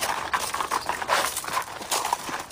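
Horses' hooves clip-clop in a steady, moderately close rhythm of repeated hoof strikes, with no talking.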